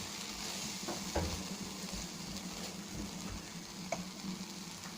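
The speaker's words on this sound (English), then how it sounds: "And for the end, we're just going to give this a nice mix." Mushroom butter masala is stirred in a pan, a steady close sizzle with soft scraping and occasional light knocks of the spoon, no voices.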